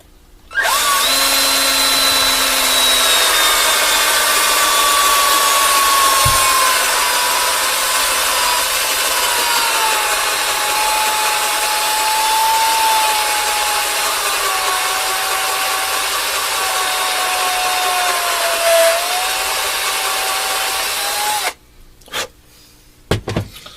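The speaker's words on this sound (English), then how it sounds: "I knew I should have charged this drill." A cordless drill with a weak battery spins an RC axle in one long, steady whine that sags slowly in pitch, running loud and close for about twenty seconds before stopping, followed by a few brief clicks.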